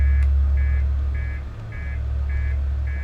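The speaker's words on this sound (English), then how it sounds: "Master alarm." Master alarm in the space exploration game Outer Wilds: a steady electronic beeping, six evenly spaced tones about half a second apart, sounding over a low constant rumble.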